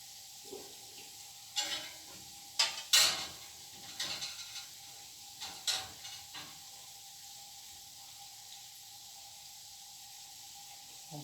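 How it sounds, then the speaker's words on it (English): Donuts fry in hot oil at home, giving a soft, steady sizzle. Intermittent louder crackles and bubbling bursts rise over it, fairly quiet overall, with no speech. "That's how we're going to fry all the donuts."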